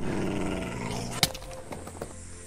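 A dog growls in a Minecraft game session, a low rumbling snarl with a sharp louder burst partway through, set against a busy layer of game sound.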